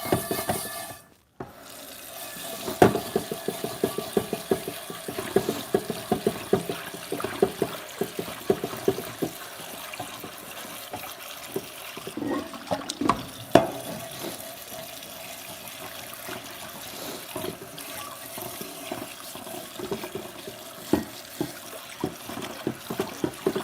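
Pan being scrubbed under a running kitchen faucet after cooking bacon cheeseburgers, a steady gush of tap water with irregular scraping and scrubbing strokes throughout, close and moderately loud, with no talking.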